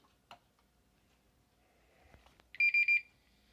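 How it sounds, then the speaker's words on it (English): A Symbol L89203 barcode scanner powers up with three loud, sharp electronic beeps in quick, even succession, preceded by a few quiet handling clicks and knocks. "3 obnoxiously loud beeps"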